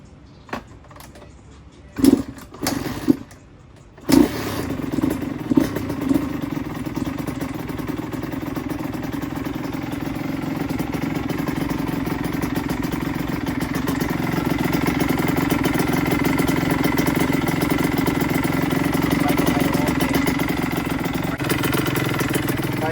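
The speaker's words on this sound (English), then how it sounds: "Right now I'm just gonna let the bike break in. I'm gonna let it idle for about an hour or two" A freshly rebuilt 2003 Honda CR85 supermoto two-stroke engine is kicked over with several sharp bursts, catches and settles into a steady, close idle that grows a little louder and fuller toward the end, with no talk.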